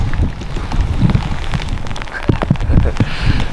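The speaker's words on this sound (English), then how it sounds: "it's raining right now" Steady rain falls outdoors on a hunting outing in Arizona, a dense close patter of drops striking surfaces, with scattered louder splats and taps throughout.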